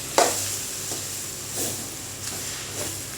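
Masala for chicken curry sizzles in a pan with a soft steady hiss, punctuated by about four scraping stirs of a spoon, close and fairly quiet with no talking.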